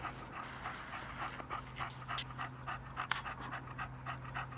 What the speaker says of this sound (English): Panting in the sun.